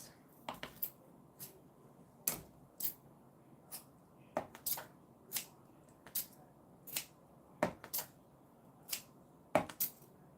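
Scissors cut fabric pieces at a sewing session, giving faint, sharp snips at an irregular, unhurried pace. Roughly fifteen to twenty of them are spread over ten seconds against a quiet room.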